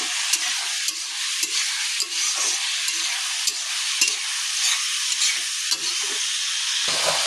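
Food sizzling and frying in a pan with chili, turmeric and cumin powder while being stirred, a steady loud hiss broken by repeated scraping strokes of a spoon.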